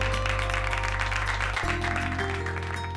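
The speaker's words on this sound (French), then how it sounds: "Un tonnerre d'applaudissements." Applause from a festival audience rises as a dense, steady wash, heard beneath sustained musical tones and a shift in backing music partway through.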